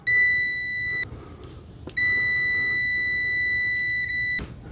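A TESMEN TMM-569A multimeter beeps loudly on continuity test, two sustained steady tones broken by a short gap, with faint clicks as the probes touch.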